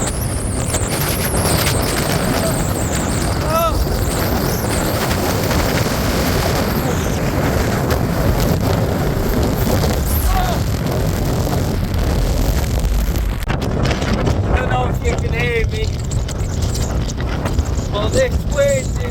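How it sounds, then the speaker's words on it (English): Strong high wind on a Lake District mountain near Starling Dodd roars and buffets the microphone in a constant loud rush, while someone speaks over it. "This wind is unreal."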